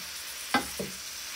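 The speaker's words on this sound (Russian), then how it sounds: "уже обжаривается лук с морковкой" Quiet steady sizzle of onion and carrot frying in a pan, broken by two brief scrapes of stirring about a quarter second apart.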